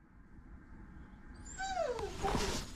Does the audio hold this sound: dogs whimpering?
yes